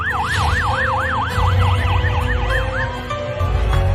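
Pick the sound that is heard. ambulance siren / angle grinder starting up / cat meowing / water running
ambulance siren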